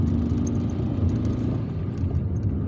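A car driving through the streets of a neighborhood in Algiers, with a low steady engine rumble and road noise from inside the vehicle, no talking.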